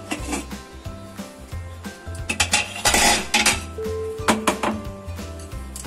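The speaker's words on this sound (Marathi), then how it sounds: "आता मी अशा पद्धतीने टीम ठेवला बरोबर मध्यभागी. आणि हे मी आता झाकण लावते." A cake tin is set inside a preheated pressure cooker and the lid is closed, producing a run of nearby metallic clanks, scrapes and clinks with irregular bursts and brief pauses, and no talk.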